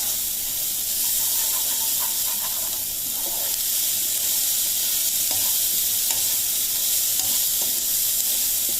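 A chickpea curry mixture sautéed with salt in a pan gives a loud, steady sizzle and hiss throughout, with faint stirring scrapes rising above it now and then.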